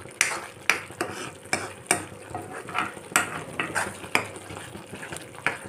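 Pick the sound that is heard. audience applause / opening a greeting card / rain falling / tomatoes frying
tomatoes frying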